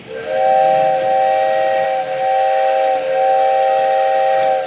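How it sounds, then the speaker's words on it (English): A loud, steady model train steam whistle blowing a sustained chord of several pitches, close by and unbroken for several seconds. "So the whistle is working absolutely perfectly."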